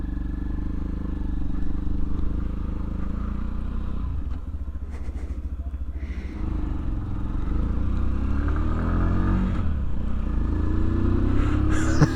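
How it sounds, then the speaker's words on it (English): Sinnis Terrain 125cc adventure motorcycle, 2020 model, riding along a road, its small engine droning steadily under heavy wind rush, with a brief dip in level midway and rising revs later. "We've got a bike, let's hit the road."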